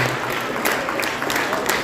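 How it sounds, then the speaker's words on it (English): Spectators at a FIRST Tech Challenge robotics league meet applaud the teams, a short steady round of clapping with crowd noise throughout. "All right, round of applause for our teams here."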